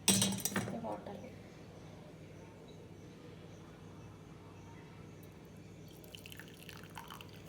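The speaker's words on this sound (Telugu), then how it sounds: "ఇది తీసి ఫిల్టర్ చేసుకోవాలి ఈ వాటర్ని." Water boiled with parijatham leaves is strained and poured, giving a short, close splashing burst at the start that fades to faint trickles and occasional drips against a quiet room.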